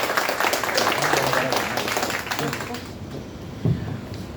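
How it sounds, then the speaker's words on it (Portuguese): Audience applause at a networking event, a burst of clapping that fades over about three seconds while voices murmur underneath, followed by a single bump and quieter room noise. "uma salva de palmas, por favor."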